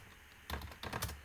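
A brief burst of typing on a computer keyboard, a handful of quick close key clicks after a short quiet pause.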